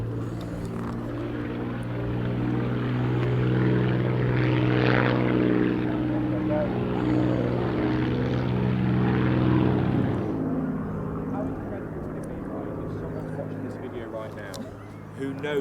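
Propeller aircraft throttling up on an RAF base runway, a loud sustained engine drone with steady harmonic tones that builds and holds, then drops away sharply near the end, heard from close by with people talking over it.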